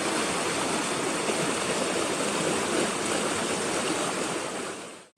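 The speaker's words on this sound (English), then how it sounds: "It's a beautiful shot of the Cashlaputer River." The Cache la Poudre River runs in Roosevelt National Forest on a warm morning on the Greyrock Meadow Loop, a loud, steady rush of flowing water that holds even the whole time, with no talking.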